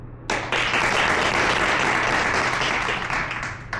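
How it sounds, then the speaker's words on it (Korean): An audience at a dramatic reading contest claps loudly in sustained applause, starting suddenly and holding steady for several seconds. "난 박수를 칠 겁니다."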